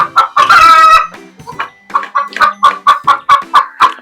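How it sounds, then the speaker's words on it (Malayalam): Farm chickens clucking and a rooster crowing close by, a loud drawn-out crow followed by a quick run of sharp, rhythmic clucks. "കോഴി ഇവിടെ ഒച്ചപ്പാട് ഉണ്ടാക്കുന്നുണ്ട്."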